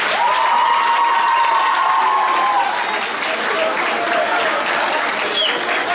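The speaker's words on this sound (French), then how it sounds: "Une bonne main d'applaudissement à tous les entraîneurs." Sustained applause from a crowd at a sports gala honouring the coaches, steady and dense for the full stretch with a few scattered whistles or cheers rising above the clapping.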